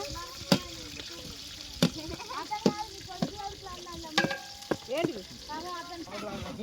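A cooking pot clatters as bagara rice with onions is stirred: repeated sharp metallic knocks and scrapes come at an irregular rhythm over a soft sizzle, with a voice talking in between.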